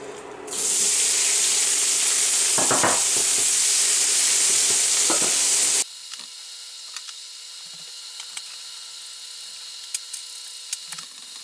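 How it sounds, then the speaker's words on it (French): Potatoes and carrots fry in oil in a pan with a loud, steady, close sizzle that cuts out abruptly partway, leaving only faint scattered crackles and clicks. "Je remets un tout petit peu d'huile au fond et on va faire cuire, revenir notre mélange pommes de terre,"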